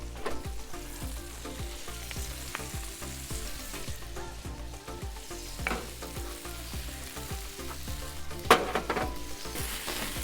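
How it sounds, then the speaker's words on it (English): Ribeye steaks, mushrooms and onions sizzle in butter on a flat top griddle: a steady, close frying hiss with scattered spatula scrapes and taps, one sharper clack near the end, and no speech. "So we're gonna cook these and toss on the mushrooms and onions."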